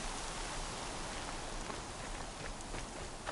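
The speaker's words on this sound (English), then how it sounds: "It's heavy with rain." Steady rain falls in the video game Horizon Zero Dawn, a constant soft hiss with faint scattered drops, unbroken throughout and fairly quiet.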